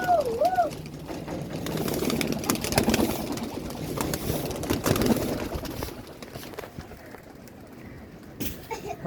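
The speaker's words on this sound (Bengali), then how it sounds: "দেখেন আজকে আমার বাসার কবুতরগুলো উড়াবো" Pigeons leaving a home loft coo in low tones, with scattered wing flutters and claps against a faint, steady background hum.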